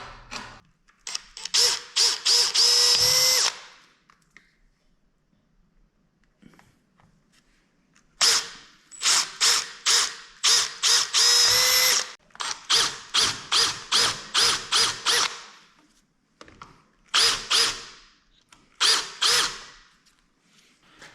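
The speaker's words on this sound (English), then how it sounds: "So drill 2 holes, do some countersinks," A power drill bores two holes and cuts countersinks in metal for a snowcat track belt stamping die, sounding as loud, close bursts of whining drilling separated by short pauses, with a rapid series of brief pulses in the middle.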